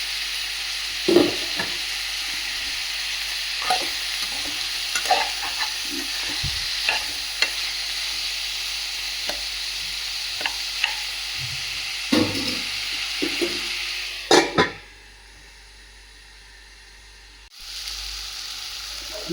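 Chopped onions and tomatoes sizzle steadily in a pan under light spatula taps and scrapes; near the end a lid clatters on, the hiss drops to a muffled quiet, then a faint sizzle returns.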